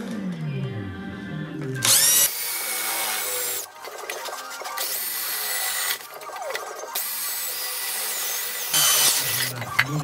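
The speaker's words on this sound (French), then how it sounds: "Alors on attaque le perçage. Donc, pareil que la grande, 8 trous sur les lignes qu'on a tracées." Power drill with a 13 mm bit boring holes through a thin sheet-metal wood-stove firebox. Loud, bright grinding bursts of drilling come in several long spells, with short pauses between holes.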